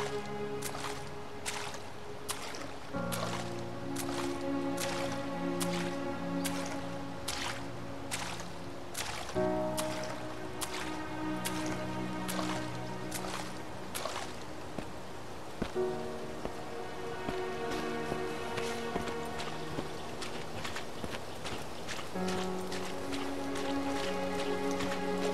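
Heavy in-game rain on flooded ground in Cions of Vega: a steady, dense patter of raindrops continues evenly throughout, mixed under a sustained tonal music track.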